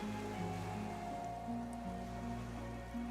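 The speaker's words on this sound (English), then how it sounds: "A drop of rain falls on a black log of an extinguished campfire." Steady rain pattering on a surface in the game Disco Elysium, near an extinguished campfire among still bulrushes, a soft continuous hiss of drops under a quiet sustained ambient music bed.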